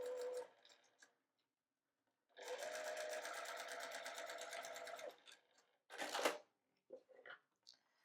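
A sewing machine stitches along a marked line in short bursts: a quick run, a longer steady rhythmic whir of about three seconds, then another brief burst and light clicks in a quiet room.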